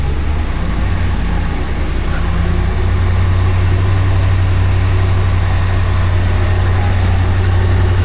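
A Ram 1500 pickup truck rolling at around 20 mph, heard as a loud, steady low engine and drivetrain hum with road noise, continuous throughout.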